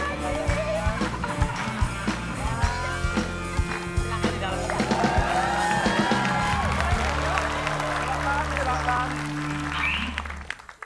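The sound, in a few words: audience applause for guest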